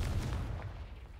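Confringo blasting spell breaking a stone wall in the Hogwarts Legacy video game: a deep, rumbling explosive boom with crumbling debris, loud at the start and gradually decaying over about a second, no talk.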